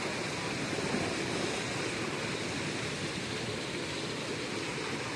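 Floodwater roars through a half-opened sluice gate on the Srengseng river, a steady, dense rush that goes on without a break and drowns out everything else.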